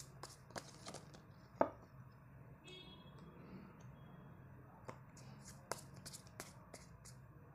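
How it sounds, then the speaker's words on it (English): Tarot cards shuffled by hand at close range, giving soft sporadic riffles and slaps with a few sharper card taps over a quiet background. "I will be shuffling the cards right now."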